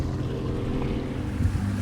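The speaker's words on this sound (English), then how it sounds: "Engines are running nice." New Suzuki outboard boat engines run at a steady, continuous low rumble out on the water in Hawaii, loud and close, with wind noise over it and no speech.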